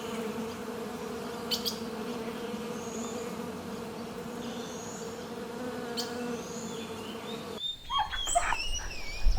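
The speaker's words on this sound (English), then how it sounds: "bee" A bee on a farm gives a continuous, fairly quiet buzzing drone for several seconds, with a few faint chirps above it and a sudden change to other noises near the end.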